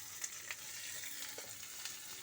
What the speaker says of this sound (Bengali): দেখেন একটু ভাজছে পেঁয়াজটা।